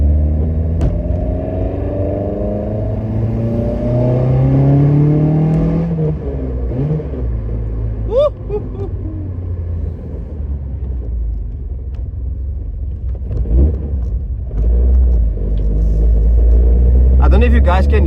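A car engine fitted with individual throttle bodies revs up and down in rising and falling sweeps over a deep, steady rumble, loud and close, with short pauses between pulls.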